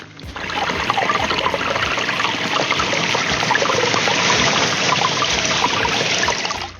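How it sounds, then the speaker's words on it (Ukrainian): Small streams trickle beside a lakeside path at Silbersee in Bavaria, a steady, close, fairly loud rush of running water that continues throughout with no voices. "тут гарненькі такі струмочки майже на протязі всієї доріжки будуть зустрічатися"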